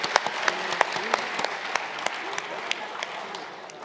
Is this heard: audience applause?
yes